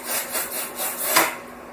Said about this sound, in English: I'm going to go ahead and use this utility knife and just score into the foam